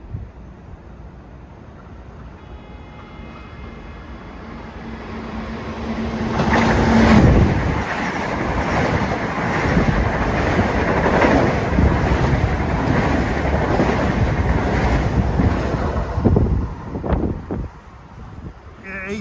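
Long Island Rail Road commuter trains rush through Forest Hills station in the evening peak, with a brief horn, then a loud, sustained rumble and roar of passing cars buffeted by wind noise before fading.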